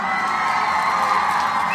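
A crowd at a Nia gathering cheers, whoops and applauds for the Nia babies, a loud continuous wash of shouting voices and clapping that fills the space from start to finish.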